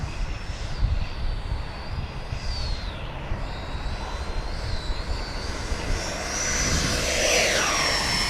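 An E-flite F-16 70mm electric ducted-fan RC jet flies overhead with a thin, high whine that shifts in pitch as it passes, swelling louder toward the end against a rumbly outdoor wind background.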